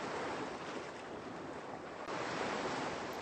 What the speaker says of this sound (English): The waves gently lapping on the sands.